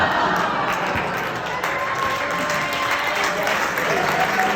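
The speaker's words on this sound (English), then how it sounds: "A round of applause for Weston and John." Wedding guests break into sustained applause for the newlyweds, loud close clapping mixed with a few cheers and faint voices through the crowd.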